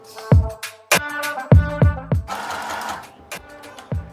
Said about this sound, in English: All I need to do is backstitch.